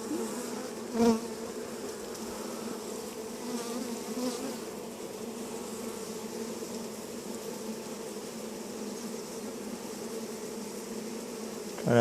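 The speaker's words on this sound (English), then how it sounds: "Big old clump of bees." Dense, continuous buzzing of many honeybees swarming around an open beehive during an inspection, close and steady throughout with no talk.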